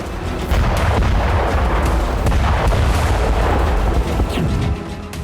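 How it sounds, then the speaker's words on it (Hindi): Heavy, rumbling blasts roll together into a continuous loud roar with sharp cracks, sounding like distant explosions going off in quick succession, from Ukrainian drone strikes in Russia. "बस एक ड्रोन से रूस में हो रहे हैं ऐसे धमाके।"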